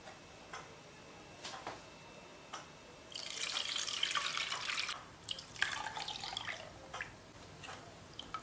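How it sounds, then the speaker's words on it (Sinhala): Milk being strained and poured into a container while making pineapple pudding: a few scattered ticks and drips, then a sustained trickling, splashing pour lasting a few seconds, tapering into intermittent dribbles, close and without speech. "ඊට පස්සේ අපි කිරි ටික මේකටම බෙරාගමු"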